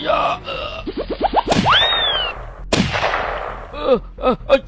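Cartoon gunfire from an animated sci-fi story about a weapon from another planet comes as a quick volley of zapping shots with rising and falling sweeps and springy boing-like tones, loud and close.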